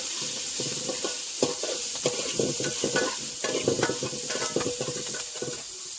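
Shallots, green chillies and garlic frying in a pan, a loud, dense sizzle that holds throughout while a utensil stirs with repeated scraping strokes, close by and without talk.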